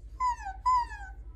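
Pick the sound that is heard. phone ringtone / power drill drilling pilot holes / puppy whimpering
puppy whimpering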